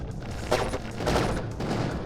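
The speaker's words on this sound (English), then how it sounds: "Energy pistol immediately starts working for us." A long-range energy pistol fires in the mech roguelike video game RIG Riot, a rapid burst of dense, loud crackling shots with a couple of stronger swells over about two seconds.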